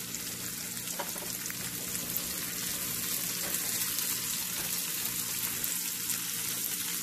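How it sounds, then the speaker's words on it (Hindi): Green chilies sizzle and fry in hot oil for poha, a steady, dense crackling hiss that holds at a constant level throughout. "और इसमें ही हम ग्रीन चिलीज भी डाल देंगे।"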